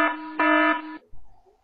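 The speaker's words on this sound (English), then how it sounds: "Sound alarm if someone go near a camera." A wireless PTZ security camera sounds its alarm: two short electronic buzzer-like tones, the second longer and brighter, followed by a faint thump and quiet room noise.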